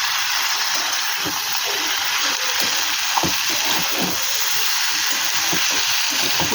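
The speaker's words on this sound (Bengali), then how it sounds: "ভেজে রাখা মাছগুলো দিয়ে দিলাম, দিয়ে দেওয়া হয়তো নাড়াবো, নাড়াচাড়া করবো।" Fried dried fish added to a hot pan and stirred, a continuous loud sizzle and hiss with scattered scraping knocks of the utensil against the pan.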